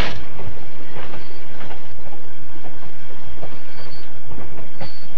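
A train passes on the Strasburg railroad in the Trainz (T:ANE) game, a loud, steady rolling roar with rhythmic wheel clicks and brief high squeals, with no voices.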